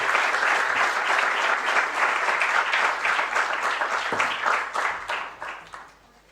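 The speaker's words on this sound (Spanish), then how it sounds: "lo despedimos con un fuerte aplauso" Sustained applause from a congress audience at the opening session of a Latin American political ecology congress, dense steady clapping that holds for several seconds and then fades away at the end.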